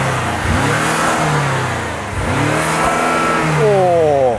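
A BMW M5 CS 4.4-litre twin-turbo V8 tuned to 635 horsepower revs loudly up close, two long rising and falling blips followed by a quick sharp rev near the end.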